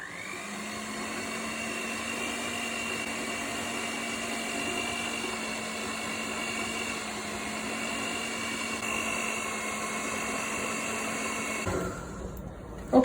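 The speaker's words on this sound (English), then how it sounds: "Mix this at a low speed." An electric mixer runs at low speed through chocolate chip oat cookie dough, giving a steady, even motor whir that holds for about twelve seconds before cutting off abruptly near the end.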